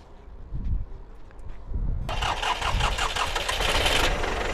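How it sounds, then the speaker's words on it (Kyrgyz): A used tractor at a vehicle market in Osh cranks with low, uneven thumps, catches at about the halfway point, and settles into a loud, rough, steady idle close by. "Мынакей трактор оталып жүрдү."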